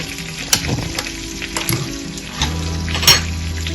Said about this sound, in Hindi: अब मैं इसको सर्विंग के लिए मैं रेड ऑनियन को फ्राई करेंगे